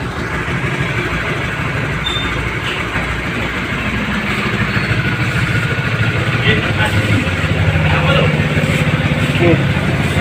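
A standard motorcycle engine runs at a steady, close idle, a constant low rumble with a faint mechanical rattle that stays even throughout.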